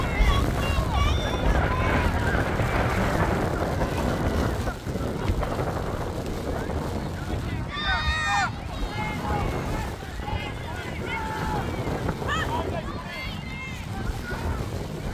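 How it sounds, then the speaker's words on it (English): Wind buffets the microphone with a rough, constant rumble at a youth football game, while distant voices and crowd noise carry underneath, plus a few faint whistle-like tones. "it's very windy here"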